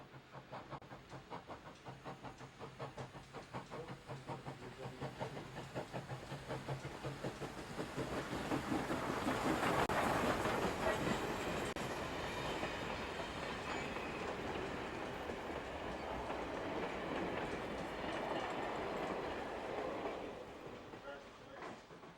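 HO scale model trains roll along the front of a detailed layout built for Tokyo Disneyland, with a steady clickety-clack of wheels over rail joints that swells louder mid-way and stays close, under a faint murmur of voices.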